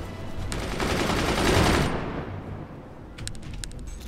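Mortars fire in the naval battle game Forts: a dense, loud burst of rapid gunfire-like blasts for about two seconds, then it fades, followed by a few sharp clicks.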